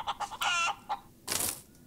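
A cartoonish chicken clucks in the space-survival video game Breathedge, a few short squawks followed by a longer, brighter cackle and a final burst, heard alone and fairly close.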